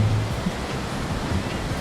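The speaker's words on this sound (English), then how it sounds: "The sweet sounds of the ocean." Steady ocean surf rolls in at Huntington Beach, a continuous broadband wash of waves close by, with no distinct breaks and no voices over it.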